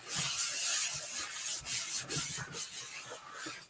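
Rapid back-and-forth scraping as a paste scraper drags chalk paste across a screen on a wooden porch leaner, a steady, close, gritty rubbing with no pauses.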